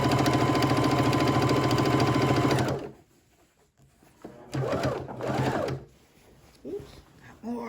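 A sewing machine runs steadily and loudly for just under three seconds while stitching binding onto a quilt, then stops. A few soft handling noises and brief speech follow.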